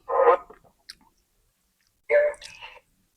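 Two close bursts of crunchy, wet chewing of crispy fried chicken a couple of seconds apart, with small clicks between and near-silence around them.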